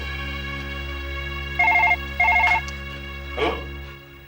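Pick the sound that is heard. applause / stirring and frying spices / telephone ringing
telephone ringing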